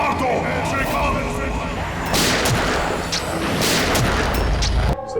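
Gunfire from a Hindi crime drama scene, a loud, dense burst of shots and booms over a roaring, busy background, with a voice mixed in.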